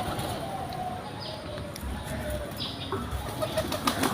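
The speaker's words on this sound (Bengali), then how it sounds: "সবজি কবুতর পুরান জাতের সবজি কবুতর" Wings of old-breed Sabji pigeons flap in quick bursts close by, with soft cooing and faint scattered voices in the background.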